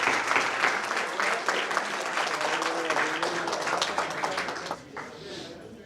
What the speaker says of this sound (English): Can we have a round of applause for all these youngsters?